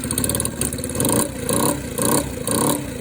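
A small Peugeot Kisbee 4T scooter engine from 2011 revs up and down in a steady rhythm, close by, with about four rising bursts over the idle.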